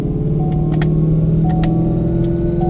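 A supercharged S650 Ford Mustang held in sixth gear on a chassis dyno gives a loud, steady engine drone with a rich harmonic hum, broken by a few sharp clicks and ticks.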